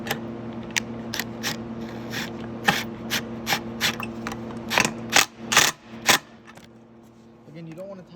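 A screw is driven by hand into a plastic side fairing on a Venom 125cc Thunder dirt bike, a series of sharp clicking ratchet turns, irregular and close, quickening then spacing out, with a voice speaking briefly.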